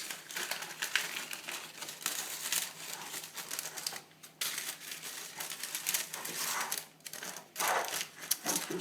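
Baking paper for the sides of a cake tin crinkles and rustles as it is pressed into a greased tin, continuous close crackling with brief pauses.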